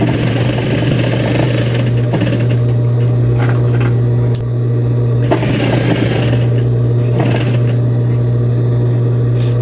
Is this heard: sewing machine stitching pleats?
yes